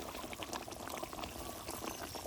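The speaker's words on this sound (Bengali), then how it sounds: "টকবক করে ফুটছে" Mustard bhola fish curry bubbles and boils in a pot, a faint, steady burbling with small popping bursts, heard alone without talk.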